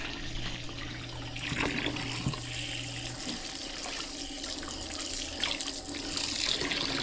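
Tap water pouring steadily into a pot for boiling pork chops at a family campsite in Gabaldon, Nueva Ecija, a soft continuous splash and trickle with faint background hum.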